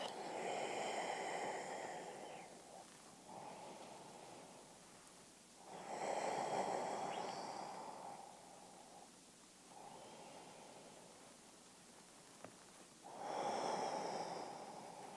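Slow, deep breaths during a yoga pose, close and soft: long airy inhales and exhales in a steady rhythm of about three full cycles, alone in a quiet room.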